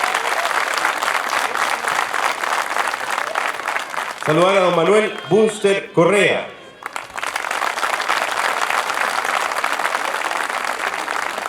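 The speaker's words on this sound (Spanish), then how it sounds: "Fuerte el aplauso para él." An audience at a heritage-day talk on the Chilean horse applauds steadily, then a voice briefly introduces a guest over a pause before the clapping resumes and continues to the end.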